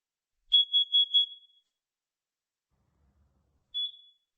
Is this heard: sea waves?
no